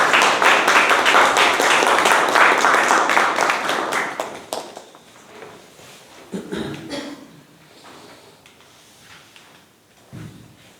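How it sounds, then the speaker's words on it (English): A burst of clapping from a small audience at a speaking-club meeting, fairly close and brisk for about four seconds, then dying away into faint room noise with a few scattered thuds. "A big round of applause for our table topic master."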